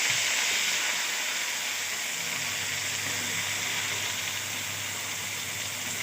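Ridge gourd peel frying in a pan, a steady loud hiss and sizzle of oil running unbroken throughout, with no voices over it.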